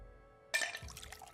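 Liquid poured into a glass with ice cubes in The Red Strings Club, a short splash and trickle that starts abruptly after a quiet moment and tails off with faint drips.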